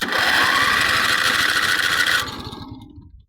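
A Countax lawn tractor engine cranks on choke in a fast, loud, rattling run for about two seconds, then stops abruptly and fades into quiet. No one speaks.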